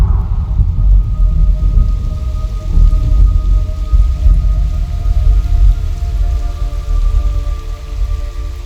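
Rain and thunder in the Metal Gear Solid Delta video game, heard as a dense, steady downpour over a deep, continuous rumbling low end, loud and without speech.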